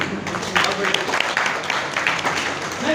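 An audience at a talk on Naturamore nutrition products claps in a dense, steady patter for about three seconds, with voices murmuring underneath.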